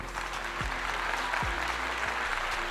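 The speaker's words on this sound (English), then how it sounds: "I got to give him a clap for that." Steady applause from a crowd at a live talk, dense and continuous throughout with no voices breaking through.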